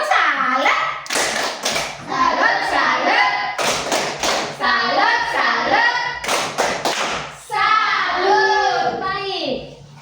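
A class of children performs the 'tepuk salad' clapping routine, chanting together in loud sing-song voices punctuated by bursts of rhythmic group clapping and hand taps, the chant-and-clap pattern repeating several times.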